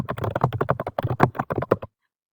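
Rapid clicking of keys on a computer keyboard while entering a first and last name into a form field, a steady run of close keystrokes for about two seconds that then stops.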